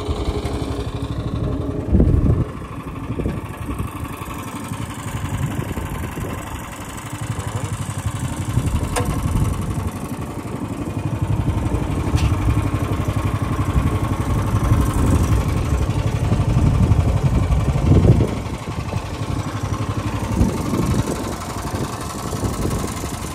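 Homemade KtZ mini tractor engine running outdoors during potato planting and ploughing, a loud steady mechanical drone with rough vibration and occasional thumps, continuing unbroken for over twenty seconds.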